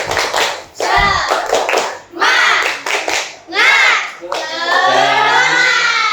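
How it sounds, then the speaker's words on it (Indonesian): A class of children performs the rhythmic 'tepuk semangat' clap, sharp patterned hand claps in short bursts interleaved with loud group chanting, close and lively. "Tepuk semangat dulu ya"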